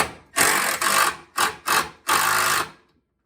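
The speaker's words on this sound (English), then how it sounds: "Certainly hear my drill working." A power drill whirs in five short bursts of varying length while a treadmill walk belt is installed, loud and close, each starting and stopping abruptly, then silence.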